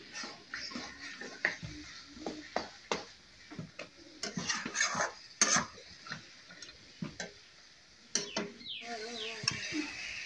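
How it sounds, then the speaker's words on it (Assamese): Mutton curry is stirred in a pot with a spoon, giving irregular close scrapes and knocks against the metal over a faint sizzle, with no talk. "এতিয়া আকৌ ভালদৰে লৰাই দিম"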